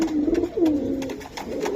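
Army breed pigeons cooing close by, a pair of soft, warbling coos rising and falling in a low murmur over faint background noise, no talk.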